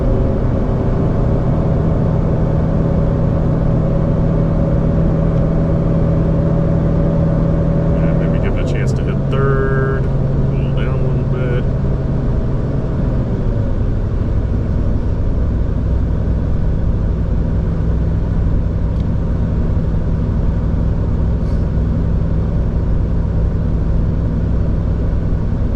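A Ford pickup truck engine accelerating hard in second gear, a loud continuous drone whose pitch climbs and then drops as the gear changes, with steady road rumble beneath and occasional talk inside the cab.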